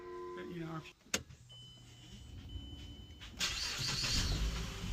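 A 2011 Mazda 5 starting up for a test drive: a brief mechanical clunk, then a starter crank and the engine catching and settling into a steady idle, heard close with background noise.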